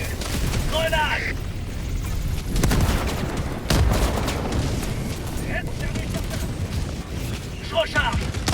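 Video game combat against automatons: heavy booming explosions and bursts of rapid gunfire layered over a dense rumbling din, with several voices talking over the action.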